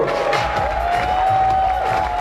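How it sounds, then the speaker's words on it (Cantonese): A convention stage audience applauding and cheering at an anime and comics event in 2016, a steady dense wash of crowd noise with a whistle-like tone running through it. "我哋應該俾多啲掌聲"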